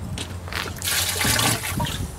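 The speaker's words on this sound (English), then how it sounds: "gotta use more water." Water poured into a mixture as it is mixed for a homemade redneck project: a close, steady splashing pour with rushing and trickling, swelling louder partway through and continuing to the end, with no talking.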